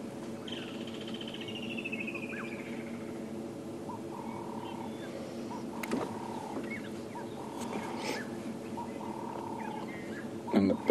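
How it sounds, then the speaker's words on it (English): Birds call at dawn in the Sabi Sand bush, including a Cape turtle dove and a red-crested korhaan, with repeated soft tonal calls and a few sharper notes, faint and distant over a quiet background. "Birds are starting to call in this beautiful dawn light."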